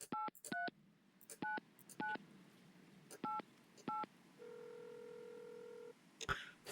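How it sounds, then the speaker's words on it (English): A phone dialing in the video game Mon Bazou: seven crisp keypad beeps in an uneven rhythm, then a steady tone for about a second and a half, followed by a click. "Let's give a quick phone call to our mother."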